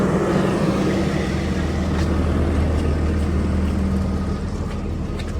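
A shuttle bus drives through Yosemite National Park, its engine a steady low rumble heard from inside, with road noise throughout and no talking.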